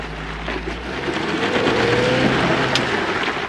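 Engine of a 2-door Ford Bronco or 2-door Jeep Wrangler straining off-road, a loud, continuous roar with a rising rev and rumbling drone held throughout.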